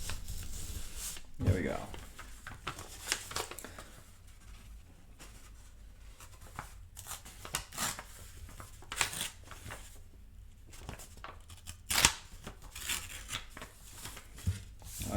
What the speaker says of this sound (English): We simply fold both ways and then we do a rip and we guide the rip down.